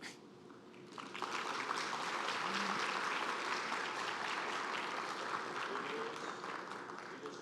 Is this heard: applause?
yes